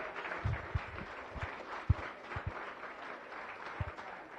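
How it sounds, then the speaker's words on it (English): Audience applause at a Las Vegas Rotary Club weekly meeting, greeting four music contestants; steady, fairly faint clapping with scattered louder individual claps and no talking over it. "Please give them all a great round of applause."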